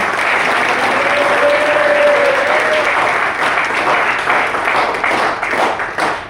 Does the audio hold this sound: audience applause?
yes